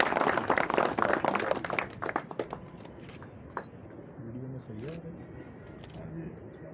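Applause from an audience at a Rasm-e-Ustadi Shagirdi ceremony greeting guests, a dense burst of clapping for the first two seconds that thins and fades, followed by quieter crowd noise and some voices.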